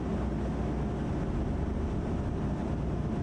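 Engines of the Starlancer MAX ship in the Star Citizen video game run as a steady low rumbling hum, constant and fairly subdued, with no voices over it.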